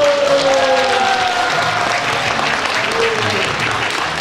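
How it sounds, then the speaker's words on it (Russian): Guests at a jubilee celebration for a professor break into loud, sustained applause, with a tonal voice or music ringing over the clapping crowd. "вы рукоплескаете"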